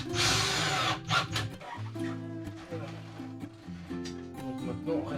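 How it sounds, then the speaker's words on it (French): Small holes are drilled into scrap metal with a power drill, the motor whirring in short uneven bursts at close range while someone talks over it. "Je vais percer mes petits trous, puis je vais essayer de fixer ça."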